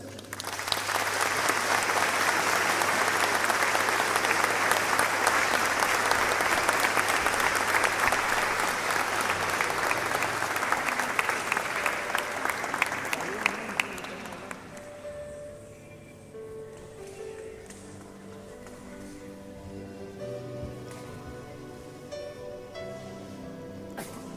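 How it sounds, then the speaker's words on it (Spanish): A large audience gives loud, sustained applause for the Malvinas war veterans at a ceremony. Dense clapping roars for about fourteen seconds, then fades into quieter room sounds and murmuring. "Pido un aplauso para ellos."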